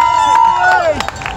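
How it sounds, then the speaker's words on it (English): A roaring crowd cheers runners near the Brandenburg Gate in the final miles of the Berlin Marathon, a loud continuous babble with whistles close around while a runner speaks over the noise. "All this crowd, I can barely hear myself speak."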